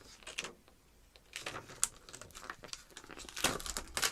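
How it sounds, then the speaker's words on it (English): Paper ephemera being handled while collaging, with soft irregular crinkles and rustles in scattered bursts that grow busier toward the end, close and fairly quiet, no talk. "Excuse the rustling."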